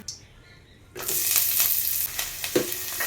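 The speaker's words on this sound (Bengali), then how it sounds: "পেঁয়াজগুলো বেশ ভালো করে ভাজতে হবে একদম লাল লাল করে" Chopped onions and curry leaves drop into hot oil and sizzle loudly, the frying hiss starting abruptly and holding steady, with occasional stirring scrapes and pops close by.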